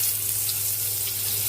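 Butter sizzles steadily in a hot pan at close range, giving an even, hissing fry throughout. A low hum sits beneath it, and nothing else is heard.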